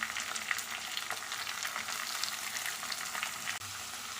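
Shredded cabbage hits hot oil with ginger and garlic, setting off a dense, even sizzle of frying that holds steady throughout, with a brief dip near the end.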